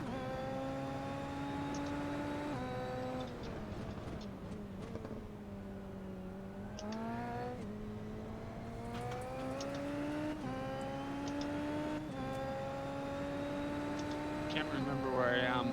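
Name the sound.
Super Formula race car engine accelerating at Montreal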